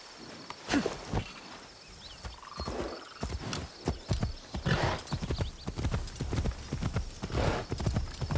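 A horse moves along in the video game Assassin's Creed Shadows. Its hooves clip-clop in a steady, fairly close rhythm, with a brief whinny early on and faint insect chirping in the background.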